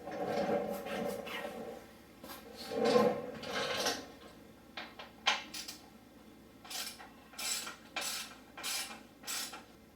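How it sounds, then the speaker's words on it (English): A T40 Torx bit on a ratchet with an extension removing exhaust pipe bolts on a KTM 300 dirt bike, with bursts of close ratcheting clicks and metallic handling noises separated by brief pauses. "you're going to use a T40 Torx with an extension and a ratchet. You're going to go ahead and remove the two bolts holding the pipe on"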